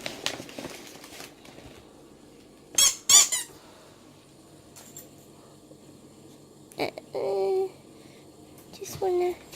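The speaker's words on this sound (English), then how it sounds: "I want the squeaky one." A squeaky dog toy squeaks in a few short bursts, one quick pair and then two longer squeals, amid quiet rustling and people speaking softly nearby.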